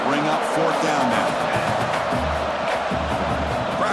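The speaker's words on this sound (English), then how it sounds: "Crowd trying to make a difference here on 4th down" A stadium crowd roars on fourth down in EA Sports College Football 26, Tulane against Rutgers: a continuous, loud wash of cheering and shouting with low rumbling tones underneath, steady throughout and close-sounding.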